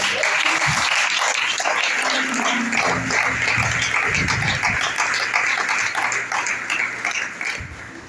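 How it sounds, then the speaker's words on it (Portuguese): Sustained applause from a church congregation at a family worship service, dense steady clapping filling the room throughout and tapering slightly near the end. "Você pode desocupar as suas mãos e aplaudir a palavra."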